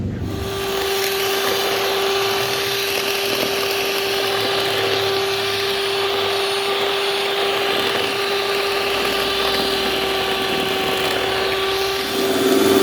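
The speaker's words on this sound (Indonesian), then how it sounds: "Kalau udah kental kayak gini, sudah ya, matikan mixer." An electric mixer whirs steadily and continuously as it beats batter for a steamed layered sponge cake, a constant close motor hum with no talking over it.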